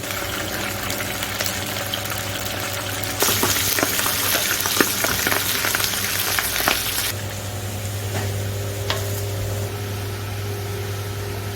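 Hot oil sizzles steadily as freshwater fish fries for spicy fish stew, swelling into a louder, crackling hiss for several seconds before settling back to a gentler fizz.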